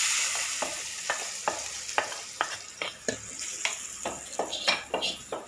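Tempering spices sizzle in hot oil for a cucumber chutney, a soft, steady hiss broken by a run of sharp, evenly spaced taps and scrapes as the mix is stirred, with no voices.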